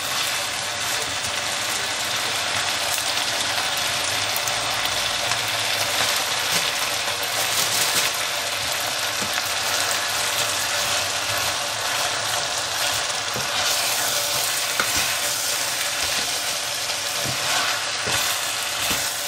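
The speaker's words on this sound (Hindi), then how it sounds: "अब हम पालक डालेंगे। ये जो काट के मैंने पालक रखी हुई है ये डाल देंगे।" Chopped spinach tipped onto potatoes frying in a pan on the stove, giving a steady, broadband sizzle that holds at an even, close level throughout with small stirring clicks and scrapes.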